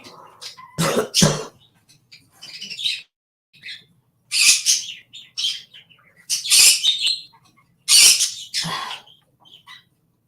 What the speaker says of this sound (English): And that's Rio, the new little parrot that you hear squawking.